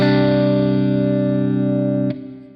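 A single electric guitar chord rings out with heavy effects and sustain, then a second chord is struck about two seconds in and decays.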